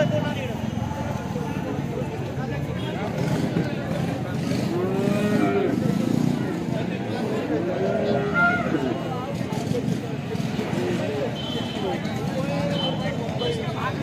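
Cows at the Alephata cow market repeatedly low in long, loud moos over a busy crowd with constant chatter and talking nearby.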